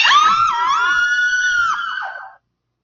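A crowd screams at the CMA Awards as Song of the Year is announced, one loud sustained high shriek of voices that holds for about two seconds, then cuts off into silence.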